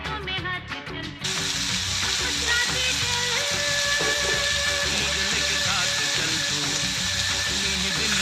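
Onion and tomato sautéing in a hot kadhai on a gas stove for a fenugreek-seed bhaji, a continuous loud sizzle with stirring scrapes, beginning abruptly after a second of quieter sound.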